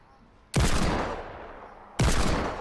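Two loud, booming gunshot blasts go off in a shooting video game, each a sharp burst that decays slowly, the second following about a second and a half after the first.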